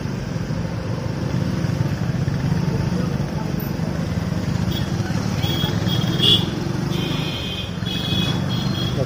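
Jammed vehicles crawling through the busy Godowlia market street in Varanasi, with a steady low engine drone, crowd chatter and a few short horn or beep bursts in the later seconds.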